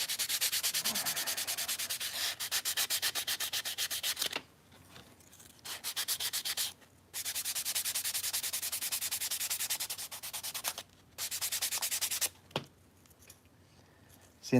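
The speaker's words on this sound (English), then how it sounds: "So I need to sand this." Steady rasping strokes of sandpaper on a small balsa wood model rocket part, close and continuous in long runs broken by a few short pauses.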